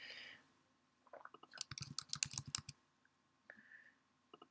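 Quick bursts of typing on a computer keyboard, a cluster of close, crisp clicks in the middle with a few isolated key taps afterward.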